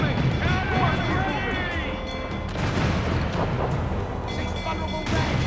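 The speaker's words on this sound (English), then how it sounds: "Mortar incoming!" Incoming mortar fire in a naval video game battle with sailing ships: heavy booms and rumbling blasts roll through, under and between urgent shouting voices.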